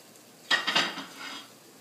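Beaten eggs for an omelette poured into a hot frying pan over vegetables, giving a sudden brief burst of sizzle and pan clatter that quickly fades to a soft hiss.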